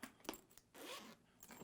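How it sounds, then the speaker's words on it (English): Zipper on a Planet Eclipse paintball marker case being pulled open in a few quick rasping strokes, close and fairly quiet, with short pauses between pulls. "Zippers"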